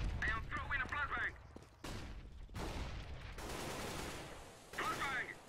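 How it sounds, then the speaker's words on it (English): In a Counter-Strike: Global Offensive match, grenade and flashbang blasts burst with sharp onsets and loud noisy tails, mixed with in-game radio voice calls and other game sounds. "Grenade! I am throwing a flashbang!"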